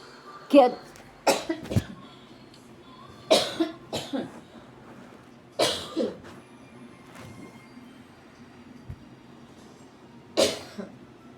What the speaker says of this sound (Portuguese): uma tosse